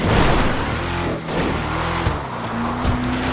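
Walton L35 engine in GTA Online, a raw, meaty motor droning steadily with shifting revs and a brief dip, loud and close with faint tire noise.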